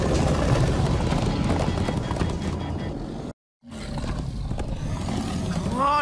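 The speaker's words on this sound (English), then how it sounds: "Come on, horses!" Horses gallop with quick, rhythmic hoofbeats in the Minecraft Story Mode video game, loud and close under game music and effects, with voices speaking over the action.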